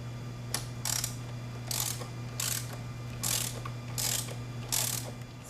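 Ratchet clicking in short repeated bursts while bolts are backed out of the rear shock on a Kawasaki Z125 motorcycle, several pauses between runs, near and fairly faint over a steady low hum.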